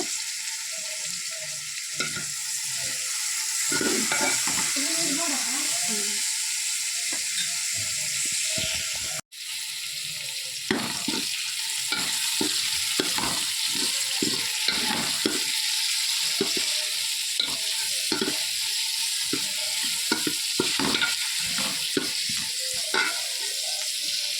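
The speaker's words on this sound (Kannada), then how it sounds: "ಬೇರ್ ಸೊಪ್ಪು ಮಾತ ಪಾಡ್ದು ಫ್ರೈ ಮಲ್ಪುಗ" Onions and curry leaves frying in a pan for Tyson chicken sukka, a continuous loud sizzle broken by frequent scraping strokes as they are stirred, close up, with a brief cut partway through.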